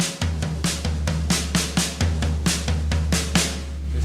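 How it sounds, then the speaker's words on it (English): A drum kit played slowly in a crossover pattern, the right hand crossing over the left, giving evenly spaced single hits at a steady moderate pace, close and clear with no talking. "It's at the right hand crossing over the left there."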